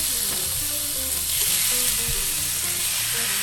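Meat sizzles loudly in a hot oiled pan for a cheesesteak filling, a dense continuous hiss and crackle with faint background tones underneath and no talking.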